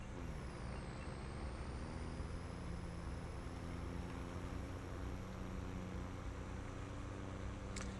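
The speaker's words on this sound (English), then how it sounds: "this truck does sound really good" A heavy truck engine rumbles steadily from inside the cab, with a low droning hum, a rising whine and a brief hiss near the end.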